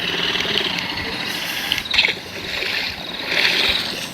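Scooter engine in a kids' school party craft game, a steady buzzing drone with rising swells, heard close and alone.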